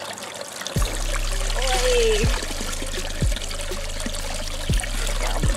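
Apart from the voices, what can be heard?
well water pouring into a bag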